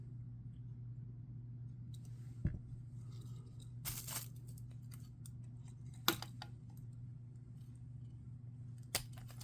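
A few sharp scissor snips cutting pieces off something, three distinct clicks spaced several seconds apart over a steady low hum, fairly faint.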